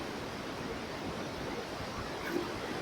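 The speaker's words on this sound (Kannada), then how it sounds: "ನೋಡ್ಬೋದು ಹಿಂದೆಗಡೆ ಯಾವ ತರ ಹರಿತಾ ಇದೆ ನೀರು ಅಂತ ಸಿಕ್ಕಾಪಟ್ಟೆ ಫೋರ್ಸ್ ಇದೆ" Rushing water at Bharachukki waterfall, a steady broadband roar that holds unbroken throughout with no voices over it.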